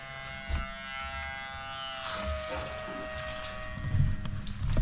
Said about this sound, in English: the bilge pump in the water again